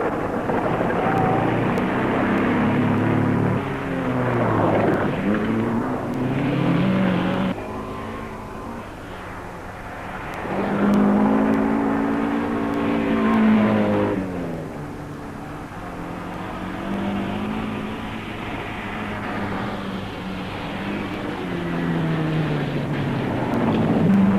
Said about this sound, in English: So far, the top cars appear to be holding their starting order, with Blomqvist pursued by a determined Culc